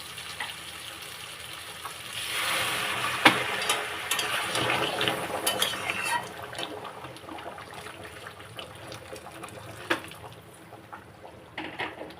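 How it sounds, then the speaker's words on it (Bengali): Water poured into a pot of simmering aloo dum, a steady splashing gush building up and sizzling, then easing into faint bubbling with occasional clinks near the end. "এবারে আমি এর মধ্যে জল দিয়ে দেবো।"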